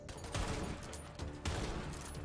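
Sniper rifle fire in Borderlands 3, a few loud, sharp shots roughly a second apart over dense game noise and music.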